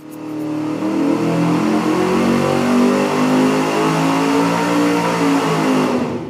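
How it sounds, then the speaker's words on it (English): Engine revving through a Rumble two-chamber muffler on a test stand, a loud steady exhaust note rising and holding across several seconds with throaty harmonic rumble, no voices. "Next up, the Rumble 2-chamber muffler."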